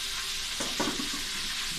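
Milkfish fries in two pans at once for a catering job, giving a soft, steady sizzle with a brief burst of spattering and stirring in the middle, heard alone and fairly quiet.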